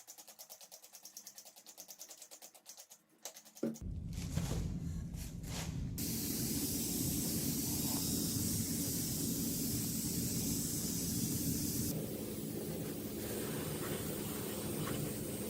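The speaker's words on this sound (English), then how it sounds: "The bare chassis receives a concentrated chemical wash." Concentrated chemical foam wash sprayed onto a bare Piaggio scooter chassis during a restoration, a loud steady hissing spray that starts abruptly and runs continuously, with a brighter burst partway through.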